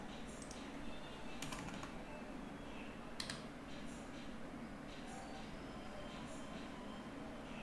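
A computer keyboard typed on in short, sparse bursts of faint clicking over a quiet, steady background hum.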